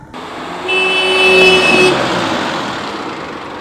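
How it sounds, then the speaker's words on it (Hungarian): A car horn honks once in a sustained, loud blast close by, over the rumble of a running vehicle, on a street in Pestszentimre, Budapest. "majd dudálj, amikor jössz."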